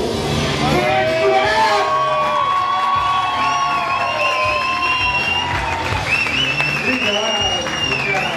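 Audience at a live show cheering, shouting and whooping as a performer is welcomed onto the stage, a loud dense crowd roar with high-pitched screams across the whole stretch, close and sustained.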